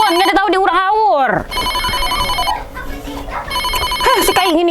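A telephone rings with a trilling electronic tone, sounding twice between bursts of animated, high-pitched talking.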